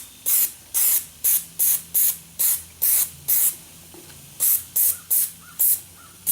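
A latex mask is spray painted in a rapid series of short, loud hissing bursts separated by brief pauses, close up and with no talking.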